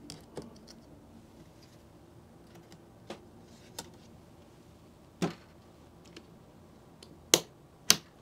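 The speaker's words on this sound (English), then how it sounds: "Two clicks, we're good." DDR5 RAM module latches on a motherboard slot give a few sharp plastic clicks, spaced irregularly over a quiet room background, the last two louder and close.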